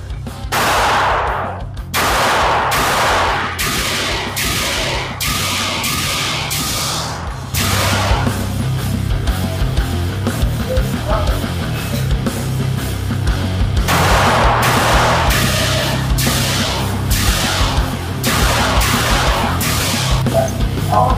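A pistol fitted with a compensator and red dot sight fires a steady run of sharp, loud gunshots outdoors, some in quick pairs and strings across the whole span.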